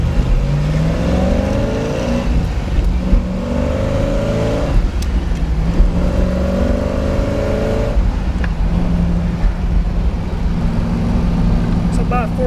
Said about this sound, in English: I'm going to drop down into first gear once you hit me in the shifter there.